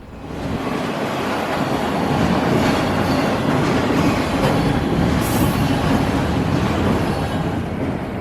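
FEC freight train rolling past on the tracks near Herbert Street: a loud, steady roar of wheels and cars, with a brief high wheel squeal partway through.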